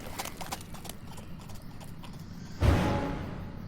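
Horse hooves clip-clop at a steady walking pace in the Dark Romance 7: The Monster Within game, then a louder, closer burst of hoofbeats and rustle takes over with no voices.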